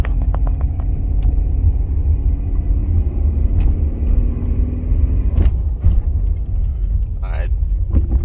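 Turbocharged Subaru Outback XT with a swapped EJ20X engine pulls from a stop up a hill at full throttle, a steady loud low engine drone rising slowly in pitch throughout, with a few clicks and knocks and a short voice near the end.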